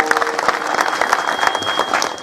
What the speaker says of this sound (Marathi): महाराजांसाठी एकदा जोरदार टाळ्या वाजवा.